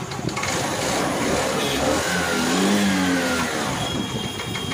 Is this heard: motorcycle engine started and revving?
yes